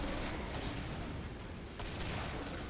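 Gunfire from a shotgun in a first-person video game, a dense, sustained burst of loud, close blasts filling the whole short stretch with only a brief dip near the end.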